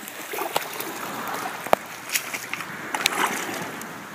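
Danner Acadia boots wading through water about seven to eight inches deep, soft sloshing and splashing with a few sharper splashes, close and fairly quiet with no talk.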